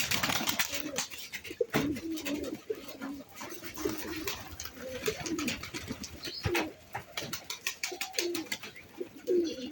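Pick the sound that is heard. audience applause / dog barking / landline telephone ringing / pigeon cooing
pigeon cooing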